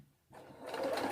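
A sewing machine stitches a lace front wig cap, starting after a brief quiet moment and building into a close, steady whirring run of needle strokes.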